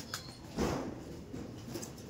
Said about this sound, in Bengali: কালদম আছে ভরে প্রচুর কালদম পায়রা